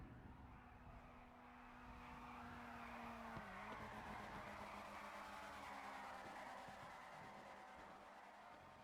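A car drifting in the FiveM video game at the BSDC Suzuka track, with a steady engine drone and long tire squeal that shifts pitch midway, heard alone with no talk.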